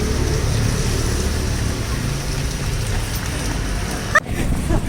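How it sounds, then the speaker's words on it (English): Rain falling outdoors on a Nepali street, a steady broadband hiss of drops on surfaces with low traffic rumble underneath, interrupted briefly near the end by a sharp handling knock. "It's raining."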